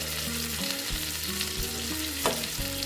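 Koi fish frying in a pan while being turned over, a steady broadband sizzle with scraping stir sounds and a brief clatter near the end, close and continuous, with a low background hum.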